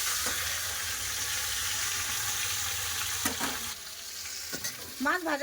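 Fish heads frying in hot oil in a wok, a steady broadband sizzle throughout, broken by a few scraping stirs and clinks of a utensil near the end.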